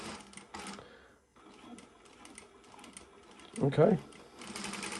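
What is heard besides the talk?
Prosew PS-1985 industrial sewing machine sewing backwards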